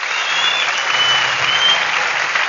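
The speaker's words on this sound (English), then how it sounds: "Okay, I'm gonna give y'all an example of some real claps." Loud, dense applause with cheering plays as an example of enthusiastic claps, a continuous close wash of clapping holding steady throughout.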